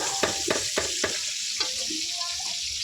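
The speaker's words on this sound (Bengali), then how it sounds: "আর এদিকে আমাদের মাংসের আলুটা ভাজা হচ্ছে" Potatoes for a meat curry fry in a pan while a utensil stirs them in several quick, rhythmic scraping strokes over a constant close sizzle.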